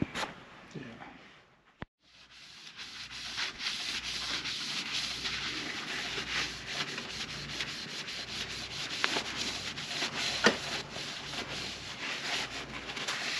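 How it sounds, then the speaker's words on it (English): Sandpaper rubbing on aluminum during a rat rod build in a garage, a steady close scratching that stops briefly near the start and then continues in long strokes. "Just hit it with sandpaper and then you polish it out. Guess that's how you do aluminum."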